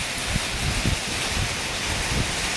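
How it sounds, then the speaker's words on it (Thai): Heavy rain falling outside a repair workshop, a dense, steady hiss of downpour with soft rumbling undertones, loud and continuous. "โอเคครับฝนตกมาแล้ว เสียงค่อนข้างที่จะดัง"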